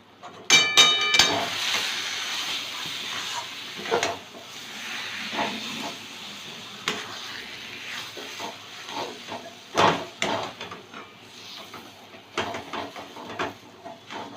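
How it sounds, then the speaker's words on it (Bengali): Soaked, ground chana dal batter sizzles and hisses in a pan with salt and sugar, a soft crackling frying sound with scattered sharper pops from stirring, heard alone. "খানিকক্ষণ ধরে একটুখানি কষিয়ে নেব।"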